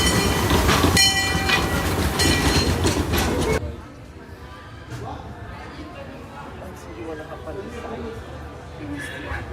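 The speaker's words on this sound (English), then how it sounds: "First dry ride of the day is the Disneyland Railroad." The Disneyland Paris Railroad train rumbles and clatters loudly on its track for a few seconds, then softer rolling noise continues inside a sheltered car on a rainy day while people talk nearby.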